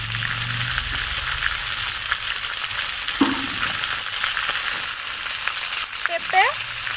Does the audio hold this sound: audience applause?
no